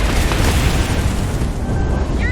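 Ship lasers fire in a space combat scene in Starfield, a loud, dense burst of booming blasts and crackling energy that fills the moment without pause.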